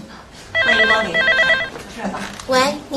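A telephone rings in an office or shop with a repeating electronic trill in two bursts, fairly loud and close, followed by another brief ring as voices talk nearby.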